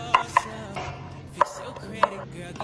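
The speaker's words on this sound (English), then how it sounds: "Dice the zucchinis." A knife dices zucchini on a cutting board: four crisp, close chops spaced unevenly over a quiet kitchen background, with no one talking.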